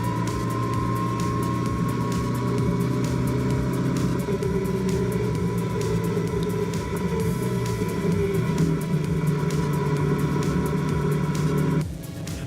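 Racing cars roar along a wet circuit in a close side-by-side battle, a loud steady engine drone with shifting pitch that holds throughout and cuts off near the end.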